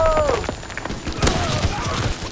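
A shotgun fires in the World War II shooter Call of Duty: WWII: one sharp, loud blast partway through, set among other battle noise and a falling whine.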